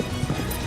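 Horse hooves galloping as a sound effect, a short burst of rapid, muffled thudding beats, fairly loud and close.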